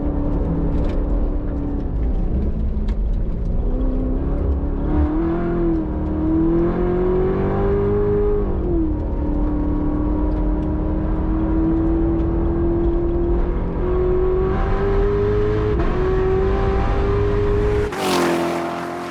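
A Chevy Corvette ZR1 lapping a track at speed, its engine roaring loud and continuous from inside the car, the pitch climbing and falling through gear changes, with a sharp burst at the very end.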